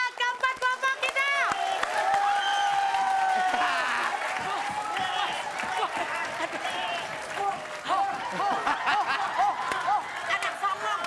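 A studio audience at a comedy show applauds four competing groups, dense clapping and crowd noise sustained throughout, with hosts talking loudly over the applause.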